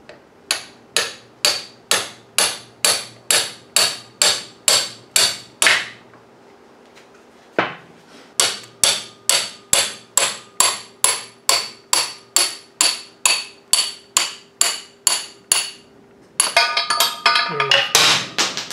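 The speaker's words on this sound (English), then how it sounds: "I'll just hammer it all the way through." Sharp metallic hammer strikes ring out in a rapid, steady series while driving the piston pin out of a Frazer rototiller engine, pausing briefly and resuming, ending with a clattering burst of metal rattling.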